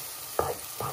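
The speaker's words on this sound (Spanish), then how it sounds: "Quiero que se fría bien la cebolla." Onion frying in a pot gives a close hiss with two short stirring scrapes about half a second apart over a faint background sizzle.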